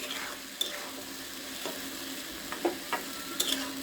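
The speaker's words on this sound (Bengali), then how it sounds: "মাঝখানে একটু নাড়া দিতে হবে।" A yardlong bean mixture simmers in a cooking pan with a soft background sizzle, while a few sharp scrapes and clinks of a spoon mark brief stirring.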